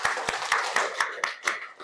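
A group claps in a steady rhythm during a classroom group-discussion session, about eight crisp, evenly spaced claps at a brisk pace, fairly close and moderately loud.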